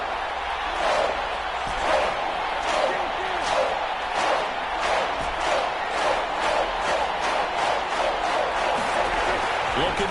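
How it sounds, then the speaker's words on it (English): A video game football stadium crowd: a steady, loud roar of massed voices with rhythmic swells and stomping beats, continuous throughout, with a commentator talking over it. "Crowd getting in it a bit already."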